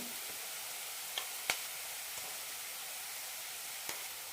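Onions sizzle in a hot pan for a chicken and cabbage stir fry, a soft, steady hiss broken by a few faint clicks and stirring taps.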